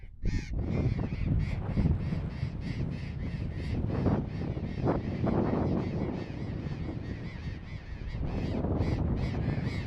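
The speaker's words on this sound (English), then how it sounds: "It's not easy to get the parrots on camera when they're flying right past you" A flock of parrots flying past a seaside cliff, harsh raucous calls repeating densely and continuously over steady wind and ambient noise, fairly close, no talking.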